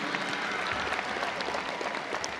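A large audience at a University of North Texas spring commencement ceremony applauds faculty in a steady, even wash of clapping that fills a big hall and holds at one level, heard from some distance.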